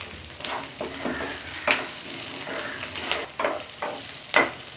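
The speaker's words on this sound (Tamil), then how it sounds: "இப்போ இதோடவே கொஞ்சமாக கருவேப்பிலை போட்டுக்கிறேன்." Curry leaves dropped into hot oil for a Tamil-style ground-masala rock fish curry, giving a steady frying sizzle with a few sharper crackling bursts, close and moderately loud, with no talking.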